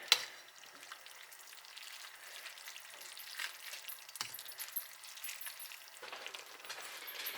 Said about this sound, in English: I'm just gonna take my tongs and just try and carefully toss this all together